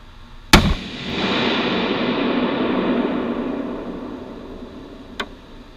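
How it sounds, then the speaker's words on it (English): A Bushmaster BR-308 (AR-10 style) rifle fired outdoors while zeroing: one loud, sharp shot followed by a long rolling echo that fades over several seconds, then a faint click near the end. "these are the very first three shots"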